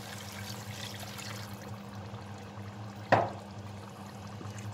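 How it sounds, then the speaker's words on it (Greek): Reserved pasta cooking water is poured into a pot of simmering cuttlefish, a soft trickling under a low kitchen hum, ending in a brief louder splash. "θα βάλουμε και το ζουμί που κρατήσαμε"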